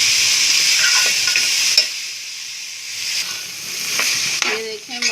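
Daal mash (lentils) fries on a low flame in a pan, making a continuous hissing sizzle that swells and eases as it is stirred, with a spoon knock and a brief voice near the end.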